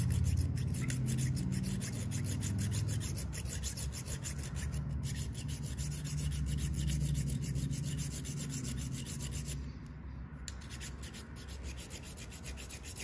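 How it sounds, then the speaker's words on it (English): Steady metal file rasping back and forth on a protruding screw atop a pistol scope mount plate, continuous close strokes with a brief pause near the end. "we'll file it down until there's nothing sticking up beyond the plate"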